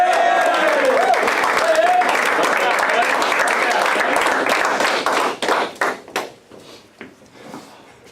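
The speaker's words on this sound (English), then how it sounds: "How about give X a cheer?" A crowd at a high school hockey championship celebration applauds and cheers loudly for a player, with a whistle-like tone early on; the clapping thins into scattered sharp claps and taps near the end.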